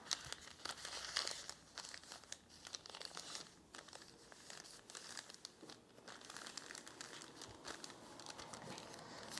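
Marbled paper is handled and folded in half for origami, giving close, soft crinkles and rustles with a few louder crackles throughout, with no one speaking.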